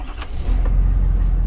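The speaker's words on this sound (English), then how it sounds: "So start your truck." A Ford truck's engine cranks and catches, a brief starter burst followed by a loud, steady low idle rumble close by.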